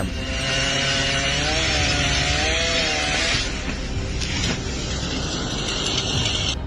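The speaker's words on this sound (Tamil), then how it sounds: "இங்கே மிகப்பெரிய ஒரு மரம் வந்து அப்படியே விழுந்திருக்கு ஆனால் அதை வந்து கட் பண்ணுறாரு" A chainsaw cutting through a large fallen tree outdoors, a loud sustained engine whine that rises and falls in pitch, then steadies into a rough drone.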